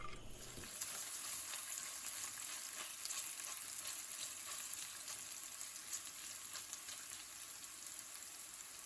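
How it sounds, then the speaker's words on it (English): Garlic and onions fry in hot oil over medium heat for a British Indian restaurant-style garlic chilli chicken. The steady, close sizzle continues throughout, broken by soft scraping from gentle stirring. "heat the oil on medium heat and add the garlic and onions, stirring gently until they begin to lightly brown"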